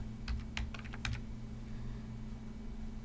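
A quick burst of keyboard typing, several light clicks in a short run, then quiet with a low steady hum in the background.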